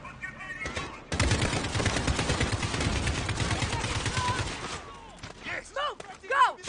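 Rapid automatic gunfire from the 2019 Call of Duty: Modern Warfare campaign erupts loudly and continuously for several seconds, then gives way to shouted voices and scattered battle sounds near the end.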